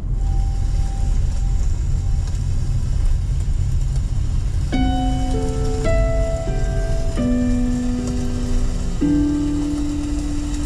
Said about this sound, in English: you can also play ambient sounds of nature